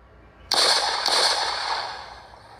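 Burst of gunfire in the video game Poppy Prison Horror Escape, a sharp loud onset followed by a sustained rattling roar and a second hit about half a second later, fading out after two seconds.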